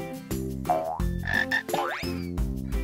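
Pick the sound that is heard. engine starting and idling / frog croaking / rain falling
frog croaking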